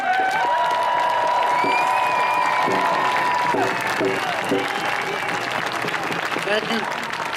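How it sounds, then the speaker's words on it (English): Sustained, dense applause from an audience at an anti-Washington Redskins rally, loud and steady for several seconds, with some cheering mixed in. "Please give an enthusiastic round of applause"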